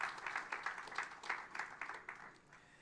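Audience applause at a forum in Tunisia, a steady patter of clapping hands that comes in soft uneven waves, moderately distant and fairly quiet, with no voices over it.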